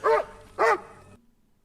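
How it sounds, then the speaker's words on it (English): A dog in a Walking Dead episode gives two sharp, loud barks about half a second apart, close by, then the sound drops to near silence. "here the dog just comes out of nowhere"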